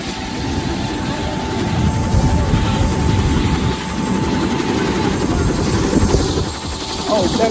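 A helicopter's engine and rotor roar steadily and loudly at close range, forming a continuous low rumble throughout with possible faint voices underneath.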